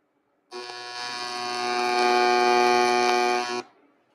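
An aluminum radiator bung is tacked with a welder run at 190 amps, giving a single harsh, steady buzzing arc of about three seconds that starts and cuts off abruptly, loud and close, with no talk.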